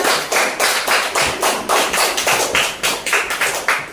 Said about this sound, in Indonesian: Beri tepuk tangan anak-anak.